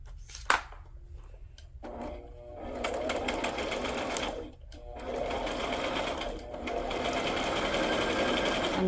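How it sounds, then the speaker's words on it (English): A sewing machine stitching around the edges of a fabric tag with a zigzag stitch, running in several steady whirring bursts with brief pauses between, close and fairly loud. "let's go ahead and sew around the edges"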